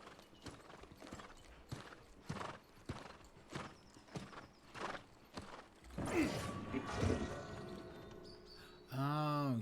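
Horse mount hooves in the video game New World: a regular series of hollow clip-clop footfalls at a walking pace, followed by a noisier burst of movement and a brief whinny-like tonal sound at the end.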